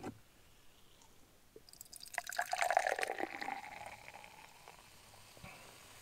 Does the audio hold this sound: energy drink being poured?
yes